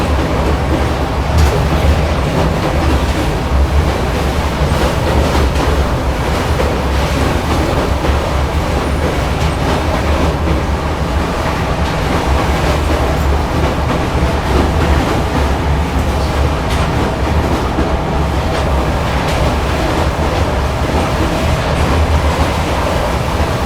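Gatiman Express train running at high speed near Morena on the Delhi to Jhansi line, a loud continuous rumble and rushing roar with rail clatter heard close up throughout, no voices.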